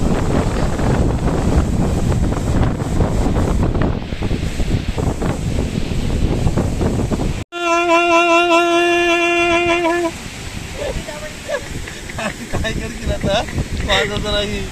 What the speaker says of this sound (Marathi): लाटा येत आहेत